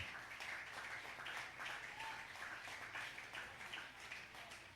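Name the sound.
congregation applause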